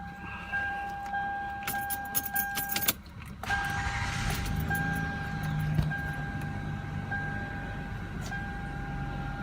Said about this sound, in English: So now we're going to go ahead and start it up.